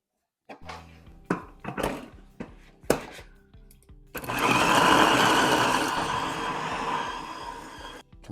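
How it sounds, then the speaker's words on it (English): A meat grinder grinds beef heart together with regular beef. A few sharp clunks and knocks come first, then a loud, steady motor whir takes over and runs for several seconds, close by, with no talking. "We threw some of this heart meat with some regular beef that we're going to grind."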